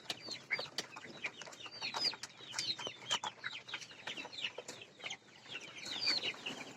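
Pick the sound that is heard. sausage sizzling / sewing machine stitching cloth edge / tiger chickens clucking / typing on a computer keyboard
tiger chickens clucking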